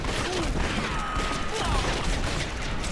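Rapid gunfire in the Red Dead Revolver video game, a dense continuous fusillade of shots under game sound effects, fairly loud and unbroken.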